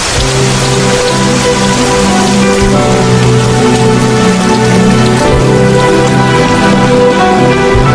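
Heavy rain pours down steadily, a loud dense hiss of drops hitting surfaces throughout, with no voices.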